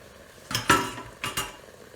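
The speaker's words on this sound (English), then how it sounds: "Give it a stir around." A utensil stirring chili meat in a rice cooker pot, giving a few sharp metallic scrapes and clinks in two short bursts, close and otherwise quiet.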